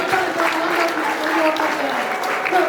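A crowd claps steadily and densely at a traditional wedding during cow-gifting speeches, a continuous wash of applause with voices murmuring underneath throughout.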